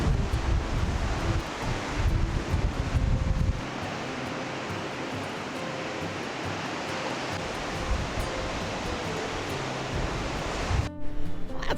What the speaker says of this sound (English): She is a wild, rough ocean.